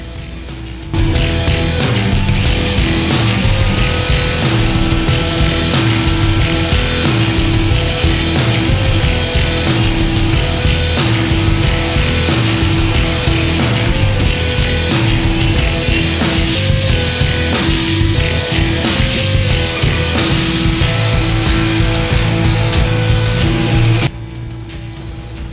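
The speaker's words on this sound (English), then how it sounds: "I'm going to cut off a piece of this non-painted tubing" Non-painted metal tubing for a forge build is cut with a power tool, a loud, continuous grinding and buzzing that runs for over twenty seconds before stopping abruptly.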